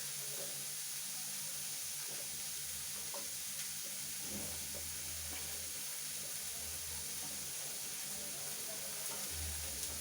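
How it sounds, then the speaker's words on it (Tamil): Onions sautéing gently in a pan make a faint, steady sizzle and hiss, with a few soft stirring clicks, heard at low level without any talking. "இது வெங்காயம் வதங்கிட்டு இருக்கு இல்லையா"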